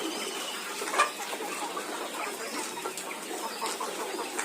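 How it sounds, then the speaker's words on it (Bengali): Flock of 90-day-old red and white layer hens clucking and murmuring continuously at close to moderate range, with scattered short calls and rustling over a steady farm background. "মুরগিগুলো খুবই চঞ্চল, আমি ধারে যাওয়ার সাথে দেখেন দৌড়চ্ছে"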